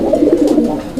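A Bombay pigeon coos close by, a low, soft burbling call running continuously through the moment with no talk over it.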